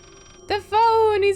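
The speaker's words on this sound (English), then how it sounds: "The phone is back." A telephone rings in the psychological horror game Layers of Fear, with a short tone burst followed by one longer sustained electronic ring heard close and alone.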